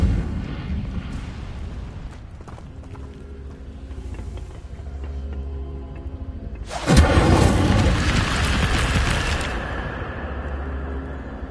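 Casting the Incendio fire spell in Hogwarts Legacy unleashes a sudden loud whooshing burst of flame that roars for a few seconds and then tapers, following a quieter stretch of ambient game sound.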